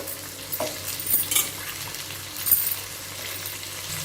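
Carrot, bean and potato pieces frying in a pan, with a short burst of sizzling and a few stirring scrapes.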